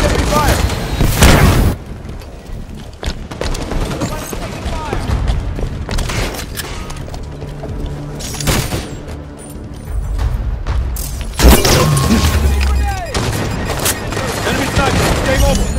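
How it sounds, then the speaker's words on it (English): Bursts of enemy gunfire and booming shots in a Halo 5 beta multiplayer match, loud and close, coming in clusters with quieter gaps between them. "Watch enemy fire."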